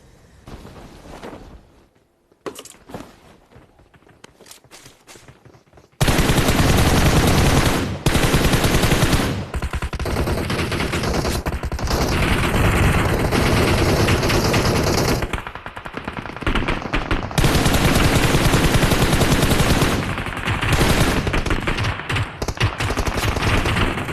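Sustained automatic gunfire from DSS and mutant guns in a video game, loud dense bursts after a quieter opening, with brief pauses between volleys.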